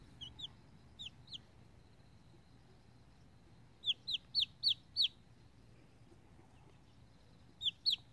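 A pet hen gives short, sharp clucks in scattered bursts: a few at the start, a quick run of five in the middle and two at the end, over quiet background.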